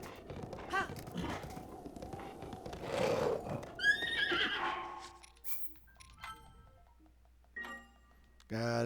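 A horse in The Legend of Zelda: Breath of the Wild gives a loud whinny with rising and falling squeals, mixed with game sounds, hoof clops and scattered talk, then a sharp noise near the end.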